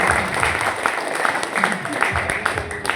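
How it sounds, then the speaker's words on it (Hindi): Sustained audience applause at a leaders' summit in Manali, dense and continuous clapping throughout with a voice speaking over it. "हम चाहेंगे एक बार सब लोग एक जोरदार क्लैपिंग कर दें।"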